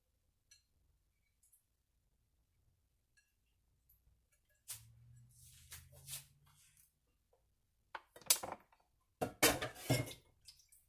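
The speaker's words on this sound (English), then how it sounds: "I am adding my corn to the pot." Kernels of corn tipped into a cooking pot for lobster corn chowder, a quiet clatter and a few metallic scrapes against the pot, then louder clinking bursts near the end, with no talk.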